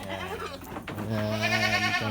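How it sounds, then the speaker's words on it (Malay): Goats bleat loudly and repeatedly inside a goat fattening pen, their long wavering calls overlapping close by. "Inilah kandang penggemukan kambing."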